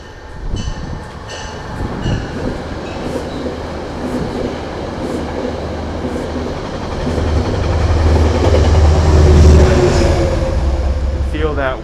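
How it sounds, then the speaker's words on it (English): A subway train rolls past on elevated tracks in the Bronx, a rumbling, clattering roar that builds as it draws close and stays loud, with wheels squealing and people talking nearby. "oh, here comes a train. Well, here comes another one."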